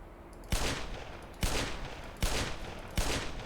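Automated turrets fire in the video game Black Mesa: four sharp, loud bursts of gunfire spaced under a second apart, each with a short rumbling decay, no talking.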